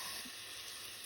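Grated corn sautés in a pan with oyster sauce, giving a continuous dense, even sizzle that stays close and loud for a brief moment with no voices.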